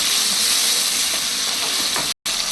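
Chicken frying in a pan with sautéed tomato and green chillies for a chicken gravy, a dense constant hissing sizzle up close, broken by one brief dropout near the end, with no voices.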